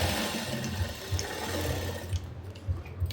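A sewing machine stitches a ruffle-sleeve blouse, a close, steady mechanical whir with a quick rhythmic needle chatter and a few soft clunks, running without talk.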